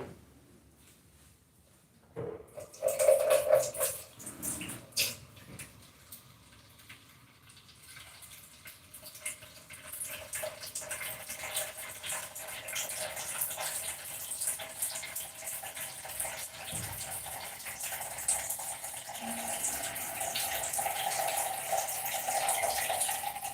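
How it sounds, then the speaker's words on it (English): Water is poured into a pot of unpeeled plantain for boiling, starting with a brief splashy gush and then a long steady running rush that continues at even loudness to the end. "We're gonna add water, and then we are going to boil it"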